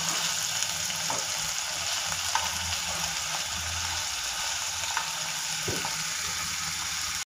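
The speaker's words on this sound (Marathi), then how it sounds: "पनीर व्यवस्थित ग्रिल झालं एका साईडनी, मी पलटून घेणार आहे" Paneer tikka cubes grilling in a pan, giving a continuous bright hiss of sizzling oil with faint scattered pops and a couple of soft knocks, all steady and close.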